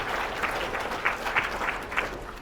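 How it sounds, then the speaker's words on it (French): An audience at a school merit gala applauds, a dense steady clapping with a few sharper bursts standing out, sustained and fairly loud from start to finish. "Je pense qu'on peut même les applaudir pour commencer."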